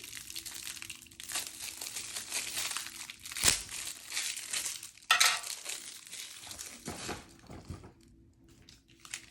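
Thin plastic wrapper of a US MRE ration spoon crinkles and rustles for several seconds, with a couple of sharper tearing snaps as it's pulled open, close and unaccompanied by speech.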